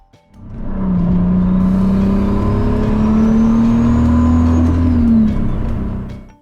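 A turbocharged VR6 engine swapped into a Pontiac Fiero revs up loudly and holds a high, steady drone with a faint turbo whistle above it, then drops off near the end.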